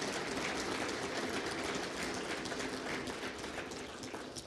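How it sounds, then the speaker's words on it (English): A meeting audience applauds to welcome a group of MLAs, a dense, steady wash of many hands clapping that holds at an even level from start to finish, with no talk over it. "So let's give them a hand of applause and welcome them for being here today."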